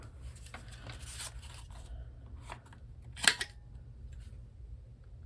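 Paper is cut by hand with scissors for a journal craft project, giving soft, scattered snips and rustles close by, with one sharper, brighter cut partway through over a low steady hum.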